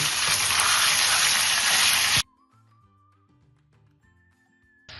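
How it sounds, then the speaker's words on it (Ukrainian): Minced meat sizzles in hot oil in a frying pan for Ukrainian varenyky filling, a loud, dense crackle that cuts off abruptly and gives way to quiet background music. "Помішуючи, смажимо до готовності фаршу."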